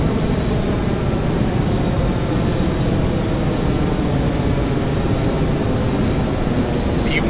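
The twin jet engines of a FlyJSim 737-200 in X-Plane 11 roar at takeoff power, a dense, steady, loud rumble that holds without a break for the whole stretch, with no voices.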